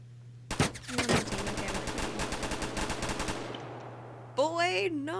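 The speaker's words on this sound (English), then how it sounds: "Someone's shooting at me at the same time" Rapid bursts of automatic gunfire in a Roblox game, a dense volley of close, loud shots lasting a few seconds before a voice begins talking over the end.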